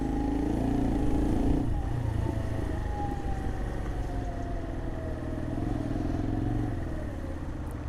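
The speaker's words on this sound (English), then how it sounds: "And as I say that, cars start coming along." Traffic passes on a road while a motorcyclist rides along, with a rumbling engine, rising and falling vehicle noise and a brief whine, all steady and fairly loud for eight seconds.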